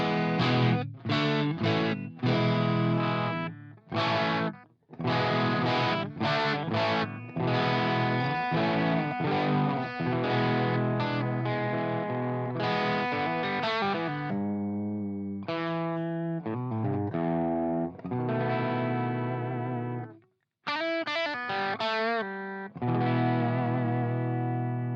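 Distorted electric guitar played through a Blackstar Jared James Nichols amp plugin on channel 2 with gain set halfway, giving bluesy crunch. The phrases are loud and sustained, with brief pauses between licks and no talking.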